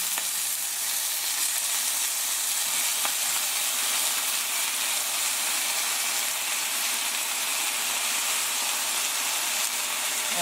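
Mushrooms frying in a pan with birch sap, a steady loud sizzle and crackle of hot oil running unbroken from start to finish, with no voices.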